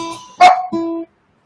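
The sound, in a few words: dogs barking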